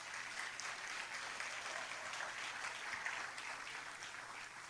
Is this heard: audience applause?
yes